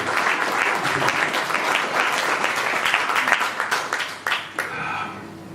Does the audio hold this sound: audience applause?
yes